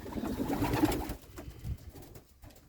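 Pigeons coo softly nearby in a pigeon loft, low throaty burbling calls in the first second or so, then quieter rustling and faint cooing.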